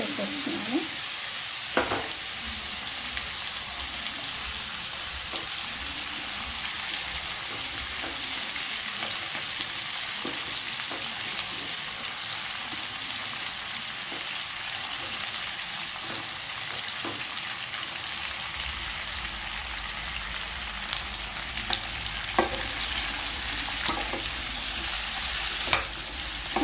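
Chow chow (chayote) sizzles and crackles as it is stir-fried in a pan with tempering. Steady frying hiss runs throughout, with scattered clinks and scrapes of stirring.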